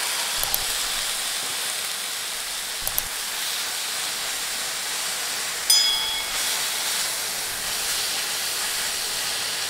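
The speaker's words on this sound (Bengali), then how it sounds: "মরিচ নেড়ে চেড়ে কয়েক সেকেন্ড ভেজে এবার শাক দিয়ে দিচ্ছি" Spinach tossed into a hot pan with fried chillies, a loud steady hiss of steam and sizzle, with a few brief clanks of stirring and a sharper clatter midway; no one speaks.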